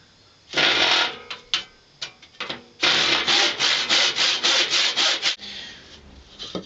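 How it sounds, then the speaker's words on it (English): A hand saw cuts wood along a clamped straight-edge guide while pieces for a coffee table are built. Loud, close rasping strokes come in uneven bursts at first, then settle into a fast, steady back-and-forth rhythm with no talking. "Now what I'll do is I'll run my saw along the edge"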